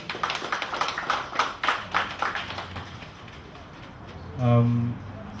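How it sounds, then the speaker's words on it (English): Scattered clapping from a small audience at an art exhibition event in Ghana, a few quick irregular claps near the start, fading into room murmur before a voice begins speaking. "Round of applause, please."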